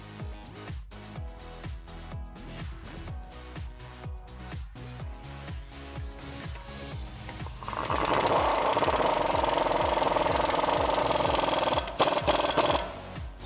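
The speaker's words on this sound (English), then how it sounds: "Now we're going to get our bottom strut bolt through and tighten down using an 18mm socket." An 18mm socket on a power tool, likely an impact wrench, drives the bottom strut bolt tight on a Dodge Challenger during a lowering-spring install, rattling in rapid repeated bursts that swell into a loud continuous whir near the end.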